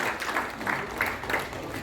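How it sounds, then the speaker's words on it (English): An audience at a club installation ceremony inducting new members claps, a moderate uneven patter of hands rising and falling over a couple of seconds. "big round of applause for all the newcomers as well as the old"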